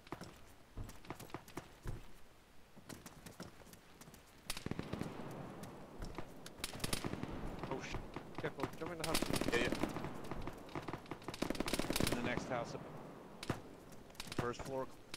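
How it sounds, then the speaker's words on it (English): Heavy gunfire rattles through an ArmA infantry battle, with dense irregular bursts and scattered cracks, some near and some distant, building in intensity and overlapping one another. "A heavy gun hitting us from the posse I mark near limited advance."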